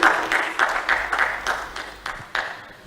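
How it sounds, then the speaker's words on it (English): An audience claps in scattered, uneven bursts, moderately loud and fairly close, with the claps rising and fading a few times over about three seconds. "Clap for me. Clap for me."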